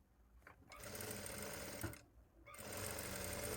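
Sewing machine stitching a fine picot hem in two bursts of rapid, even needle chatter, briefly pausing in between, close and fairly loud with no talk.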